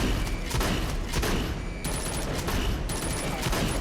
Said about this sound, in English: I love the sounds that the guns make.